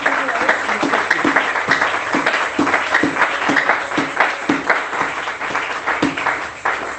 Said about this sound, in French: Est-ce que tu peux encore acclamer pour le nom de Jésus?